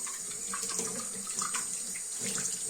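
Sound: aquarium parts being washed under running tap water

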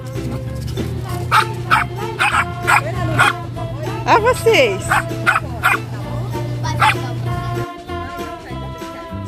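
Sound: dog barking

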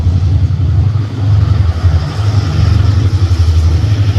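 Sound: train locomotive accelerating

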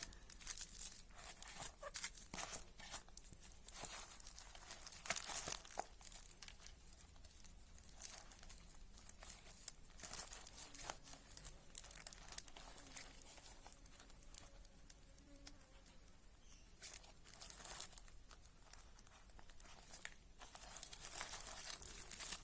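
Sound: plastic cover being tied around a black pepper branch

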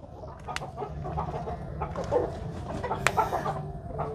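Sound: chickens clucking

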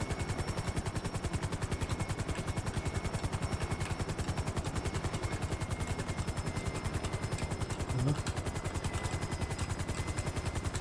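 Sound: helicopter in combat with gunfire in video game GTA V

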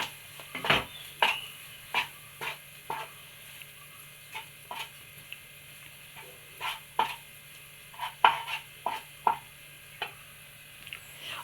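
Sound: stirring mashed potato mixture

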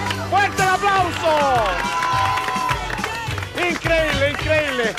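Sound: audience applause

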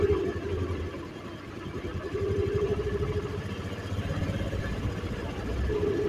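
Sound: Honda Aviator scooter engine idling

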